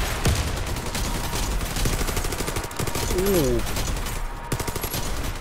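Dense, rapid gunfire from a PVE shooter video game set in Pripyat, played by a four-person team on insane difficulty; loud, continuous bursts fill the clip, with a brief voice exclamation and a game tone partway through.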